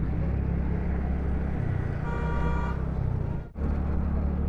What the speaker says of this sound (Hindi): भाई इतना हॉर्न मारता है